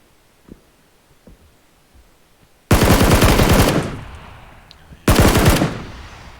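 Two loud bursts of full-auto gunfire from an enemy's weapon in PUBG, each a rapid rattle lasting about a second, separated by a short lull with faint background game sounds.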